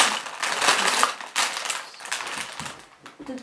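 Loud, continuous crinkling and crackling of a plastic bag from a LEGO Creator 31142 set being handled up close, in bursts with short pauses.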